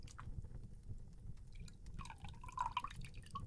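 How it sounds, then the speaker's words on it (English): Water drips and trickles softly from a wet cloth during a close, quiet face-cleaning in an ASMR role play, with small liquid splashes and light squeezing sounds building near the end. "This is just water."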